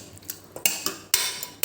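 A metal spoon scrapes and clinks against the inside of a pressure cooker while stirring cooked bottle gourd curry, a few sharp knocks and short scraping strokes close up with no talking.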